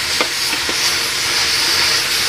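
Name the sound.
free-range chicken frying in pot on wood stove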